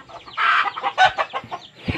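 A brooding hen clucks and grumbles in a series of close, irregular bursts, with short throaty notes rising and falling over about two seconds.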